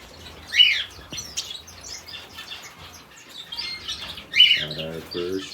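Soft, high peeping chirps from a newly hatched baby canary chick come in a few short bursts, with faint bird calls and light rustling in a quiet indoor setting.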